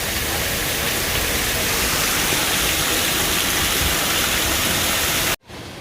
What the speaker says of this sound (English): the sound of the water rushing is just phenomenal